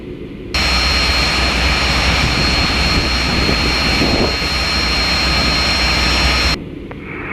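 Cockpit sound from a Cessna Citation CJ1 training jet at Bremen doing a touch and go, a loud steady jet-engine roar with a constant whine that starts abruptly, holds for about six seconds, then cuts off, very close.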